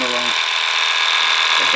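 Electric clippers buzz steadily and close up while trimming the coat of a show cow being prepared for a cattle show. The whine runs unbroken and loud throughout.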